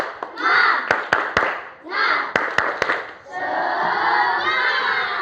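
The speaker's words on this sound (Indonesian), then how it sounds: "Oke dulu, tepuk semangat." Classroom of students doing a rhythmic clapping cheer, sharp unison claps punctuating loud group chanting and shouting in bursts, close and energetic.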